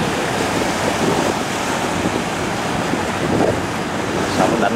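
Waves crash against a barge at a river mouth in a loud, steady roar of surf and wind that buffets the microphone and never lets up.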